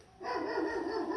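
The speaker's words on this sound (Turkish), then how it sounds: "Evet, köpekler geldi, yaklaştılar." Dogs bark and yip in a quick burst near a church in Germiyan, fairly close, with a whining, breathy edge between barks.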